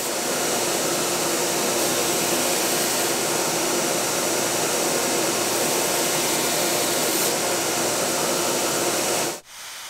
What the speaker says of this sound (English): We're gonna get this on the grinder now, sand it in to a satin